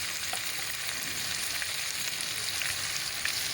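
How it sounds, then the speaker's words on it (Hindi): Chicken is frying in a pot over an open fire on a rooftop, giving a dense, even sizzle and crackle for a few seconds. Close, steady and alone, with no talk. "चिकन को अच्छी तरह से मैं भून रही हूँ।"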